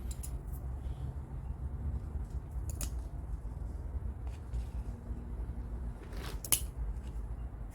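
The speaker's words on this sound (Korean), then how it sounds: "이거 일단 이렇게 죽어있는 가지를 싹 잘라 버릴게요." Scissors snip dead branches off a bonsai tree, a few sharp, sparse clicks against a quiet low hum, with one louder cut near the end.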